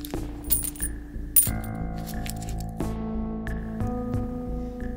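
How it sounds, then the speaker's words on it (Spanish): Coins clink and rattle as they are emptied from church alms boxes, a steady stream of metallic chinks with several louder spills and ringing tones, close and clear with no voices. "escuchó que alguien vaciaba las urnas donde los feligreses depositaban las limosnas"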